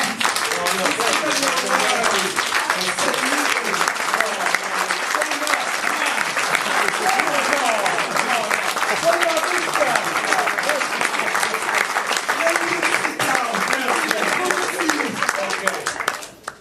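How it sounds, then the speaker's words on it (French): Sustained audience applause at a film master class with William Friedkin, dense clapping from a large crowd standing in ovation, steady and loud throughout before cutting off at the end. "Standing ovation just for the hell of it."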